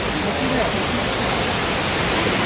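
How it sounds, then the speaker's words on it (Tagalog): Akiu Otaki waterfall in Akiu, Japan, a big falls pouring with a loud, steady, broadband roar that fills the scene without a break. "we're here in a big falls. Akiyo Otaki."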